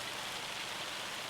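Hail falling during a farming session in the video game Farming Simulator 25, heard as a steady, even hiss of dense pattering with no breaks.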